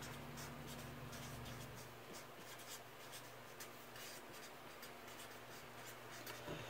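Faint, continuous scratching of a pen or pencil on paper while a stacked bar graph is drawn, steady and close with no talking over it.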